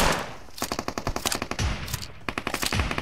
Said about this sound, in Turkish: pompalıyla vuruyorum